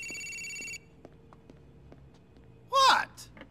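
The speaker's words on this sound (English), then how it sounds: "The phone's ringing." A phone rings in Grand Theft Auto IV, a steady electronic ringtone at the start, followed by quiet game ambience and a short burst of a character's voice.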